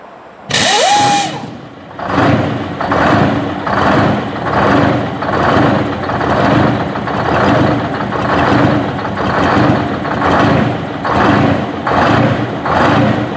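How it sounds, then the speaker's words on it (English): An old farm truck engine cranks with a short starter burst, catches and settles into a loud, close, lumpy idle with a steady pulsing rhythm that keeps running to the end. "Now let's head over and see Chris starting this truck up."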